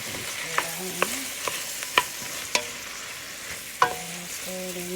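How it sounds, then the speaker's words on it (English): Canned corn and green beans being stirred into a pot of chicken vegetable soup, a soft sloshing bed punctuated by several sharp spoon clinks against the pot, close and unhurried. "I have corn, so we're adding a can of corn. And add green beans. I'm going to stir that in."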